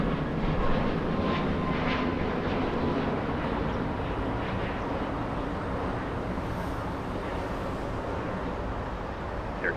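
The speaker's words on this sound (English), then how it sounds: "That's a 737 heading to Vancouver." A JetBlue Boeing 737 MAX 8 departs runway 25 right at LAX, its jet engines giving a loud, steady broadband roar that holds for the whole stretch without talk.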